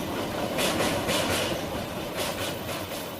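A cartoon train arriving, a steady rumbling roll with rhythmic clacking bursts recurring every half second or so, loud and close throughout the short stretch.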